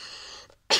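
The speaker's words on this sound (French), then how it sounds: "je tousse parce que je fume" A smoker's cough: one harsh, close, loud burst near the end, after a stretch of breathy hiss and a short silence.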